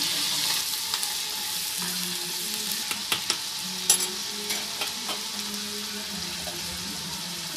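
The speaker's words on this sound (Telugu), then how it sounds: "ఇది పచ్చివాసన పోయేంత వరకు కూడా నూనెలో వేపుకోవాలి" Ginger paste frying in oil with chicken gives a steady close sizzle, with scattered clicks and scrapes of a spoon stirring against the pan; no one speaks.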